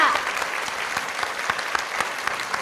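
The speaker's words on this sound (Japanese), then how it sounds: "今一度大きな拍手をお送りください" A crowd claps steadily, a dense wash of applause that carries on throughout.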